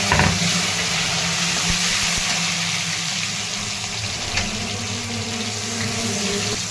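Mustard seeds, cumin and curry leaves crackle and sizzle in hot oil, a steady close frying hiss that runs throughout with scattered small pops and no talking.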